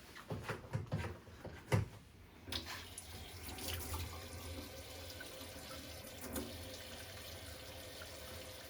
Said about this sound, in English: You can wash your hands.